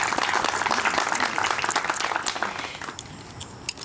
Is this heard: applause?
yes